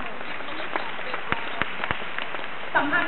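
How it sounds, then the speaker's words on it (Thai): An audience at a business sharing talk applauds Melissa, a steady patter of many hands clapping at moderate volume with a few sharper claps standing out, and a voice cuts in at the close. "ขอเสียงปรบมือกันไหมกับคุณเมลิซ่าใช่ไหมคะ"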